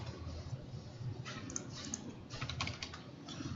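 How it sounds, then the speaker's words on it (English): Faint, quick taps on a computer keyboard during a drafting lesson, a short burst of keystrokes over a low steady background hum. "type 100 and press enter"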